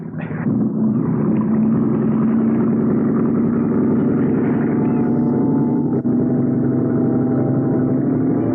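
A boat engine revs and then holds a loud, steady droning rumble for several seconds, close and alone, as a radio drama sound effect.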